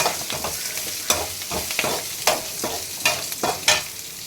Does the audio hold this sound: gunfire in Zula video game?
no